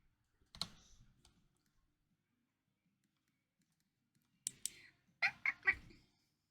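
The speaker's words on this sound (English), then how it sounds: "I can hear birds making a noise outside." Birds call faintly outside, one short burst early on and then a quick cluster of sharp, quack-like calls near the end, separated by near silence.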